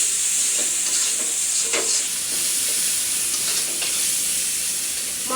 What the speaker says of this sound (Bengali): মশলাগুলো আগে একটু ভেজে নেব